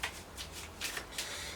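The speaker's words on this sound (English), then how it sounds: "You give it an overhand shuffle, and you just shuffle off some cards." Cards from a deck of playing cards are given an overhand shuffle, producing several quick, soft papery riffles close by in a quiet room.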